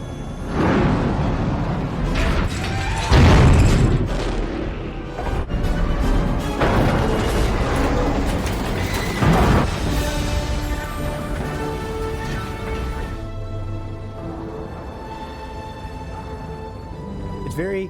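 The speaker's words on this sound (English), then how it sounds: "the rebels use a Hammerhead Corvette to push down a Star Destroyer to" In the Rogue One space battle, a Hammerhead Corvette rams a Star Destroyer into the shield gate. Heavy rumbling crashes and explosive booms swell over a dense orchestral score, with a voice speaking across the scene.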